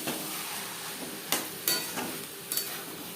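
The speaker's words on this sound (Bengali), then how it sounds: "গরম মশলা ও কাঁচা লঙ্কা চেরা বেশ ভালো করে মিক্সড করে দেবো।" Cabbage is tossed in a pan with ghee, garam masala powder and slit green chillies, giving a low sizzle broken by a few sharp spatula scrapes and clinks.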